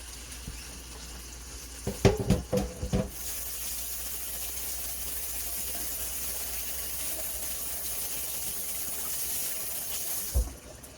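Running tap water over hands being washed, a steady broad hiss lasting several seconds, preceded by a few clattering knocks and ending with a soft bump.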